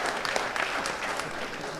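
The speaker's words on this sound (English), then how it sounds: "Give her a round of applause." Crowd clapping steadily at a political town hall meeting, a dense, sustained burst of applause filling the room with a few faint voices mixed in.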